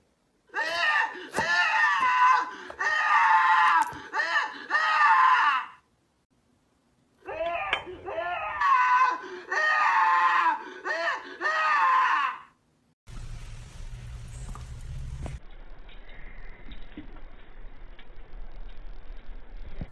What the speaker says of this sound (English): This person created a strawberry that screams whenever you cut into it.